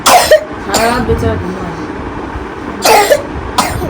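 A child with a cold coughs in short harsh bursts, a pair near the start and another pair around the three-second mark, close and fairly loud over a quiet room.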